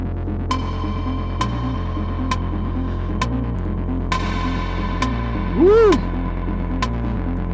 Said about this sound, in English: take out a kick, going to my reverb, play around with it, open it up